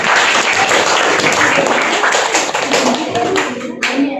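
Classroom applause, a brisk round of clapping from a group of students lasting a few seconds, close and fairly loud, thinning toward the end.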